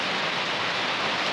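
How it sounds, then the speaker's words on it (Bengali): Heavy rain falls in a thick, uniform wash of noise, close and loud through the brief moment, with no voices. "আর প্রচুর বৃষ্টি নামতেছে"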